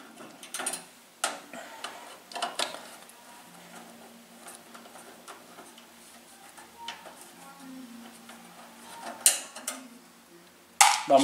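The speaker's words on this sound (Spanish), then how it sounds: "vamos a voltear el equipo para poder retirar el resto de tornillos que nos van a permitir" Screws are removed from a Cuisinart TOA-60 air fryer oven, giving scattered small metallic clicks, ratcheting ticks and clunks as the unit is handled, fairly close and quiet, with a sharper knock at the end.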